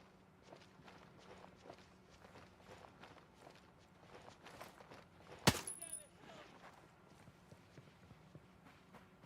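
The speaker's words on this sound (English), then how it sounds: "I was hearing like 2 sets of footsteps." Footsteps in Ghost Recon Breakpoint, inside a warehouse: faint, evenly spaced steps tap on over a quiet background, broken once by a sudden sharp bang midway.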